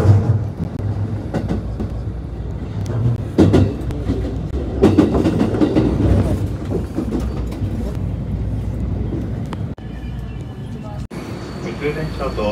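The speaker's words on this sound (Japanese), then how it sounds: "普通電車と快速電車が通る。" Local and rapid trains pass through a JR West station in Japan, a broad rumbling roar of wheels and cars running steadily under station noise and announcements, with brief breaks near the end.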